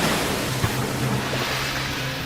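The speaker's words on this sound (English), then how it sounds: "tossed by the waves" Rough sea waves surging and crashing around a boat in a contrary wind, a loud continuous roar of surf and wind with a low rumble underneath, no voices.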